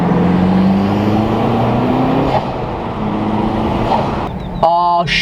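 A car on a test drive after a short shifter and bushing install, heard from inside with a steady engine drone that rises in pitch as it accelerates, then drops away, before a voice speaks at the end.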